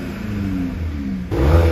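A 2021 VW Golf GTI Clubsport with its 2.0 TSI engine revs up against a soft rev limiter, a mid-pitched engine tone that climbs, holds, then swells louder near the end, heard alone without talk.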